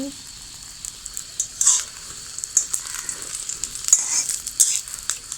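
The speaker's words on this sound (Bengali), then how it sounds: "এরকম তেলে ভাজা ডিম খাচ্ছি" An egg fries in hot oil in a pan, giving a steady crackling sizzle with sharper pops and spatters scattered throughout, heard close up.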